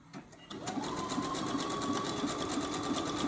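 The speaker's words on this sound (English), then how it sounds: "So we're just doing a zigzag stitch right now" A Janome 500e sewing machine stitches a zigzag seam on fabric for an embroidered bowl, starting up after a couple of clicks and then running in a fast, steady, close rattling hum.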